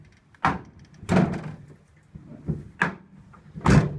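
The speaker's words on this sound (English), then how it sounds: "that popping noise is this piece of plastic hitting the tailgate" A loose plastic trim piece on a 2003 Chevrolet Silverado LB7 pops against the tailgate, giving five or six hollow knocks at uneven intervals, fairly close with no voices.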